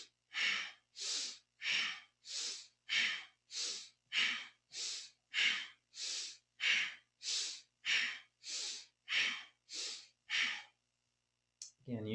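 Kundalini yoga breathing in a calm room: powerful, full inhales and exhales alternate in a steady rhythm, about a dozen loud, close, airy breaths, each roughly half a second long with brief pauses between them.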